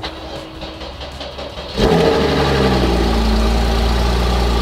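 A wrecked 2016 Porsche Cayman GTS with 9,080 original miles cranks and fires at once, settling into a loud, steady, close engine idle after a quieter stretch of background noise.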